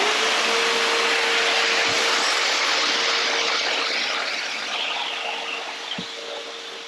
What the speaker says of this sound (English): just hit it again with the sander